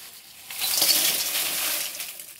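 Red chillies dropped into a hot pan to roast: a soft hiss and crackle rise after half a second and hold steady, close and moderately loud, with no talking.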